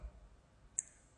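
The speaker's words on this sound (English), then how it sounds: "I'm gonna click on download this file" A single faint click of a computer mouse in a quiet room, short and isolated.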